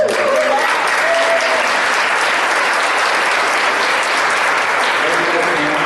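An audience at a superintendent's forum gives loud, steady applause to congratulate staff on a clean audit, with clapping that fills the room from start to finish.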